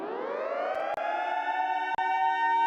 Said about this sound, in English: Just the Siren.